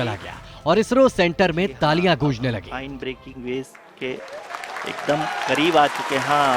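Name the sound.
applause at ISRO centre during Chandrayaan-3 landing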